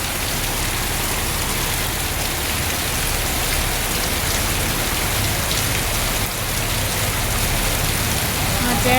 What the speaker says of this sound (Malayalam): മഴ ഇങ്ങോട്ടടിച്ച് കയറുന്നു.